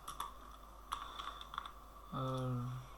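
Typing on a computer keyboard, a few scattered soft key clicks close by, followed by a person speaking briefly near the end.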